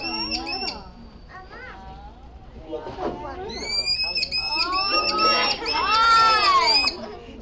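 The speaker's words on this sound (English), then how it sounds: "So this Merlin, pretty interesting because it's a fledgling. He's noisy today." A fledgling Merlin falcon giving repeated shrill, piercing calls close by at an indoor library presentation on birds of prey, growing longer and louder toward the end, with some people's voices early on.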